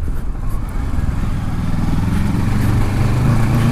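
A 2018 Kawasaki Versys 650 motorcycle cruising on a paved road, its engine a steady, loud low drone with wind noise that builds slightly toward the end, no talk over it.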